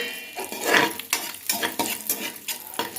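Cashews and raisins roasting in a pan, heard as a soft background sizzle broken by repeated scraping stirs of a spoon against the pan in an uneven rhythm, close by and with no talking.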